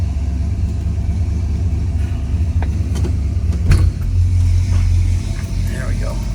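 A restored 1967 Oldsmobile 442 muscle car cruises down the road, its engine producing a steady low rumble with road noise throughout, heard from inside the car with a brief surge in the middle.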